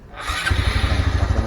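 A Honda Supra X 125 Fi fuel-injected motorcycle cranks with the starter and catches almost at once, settling into a steady, close idle with a quick putter.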